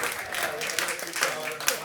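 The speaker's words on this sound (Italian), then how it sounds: "Quindi un applauso a questa carambata organizzata da Aspal." Audience applause at a conference session at a job fair in Tortolì, Sardinia, a brief, soft, steady patter of clapping heard from a distance, with a voice talking over it.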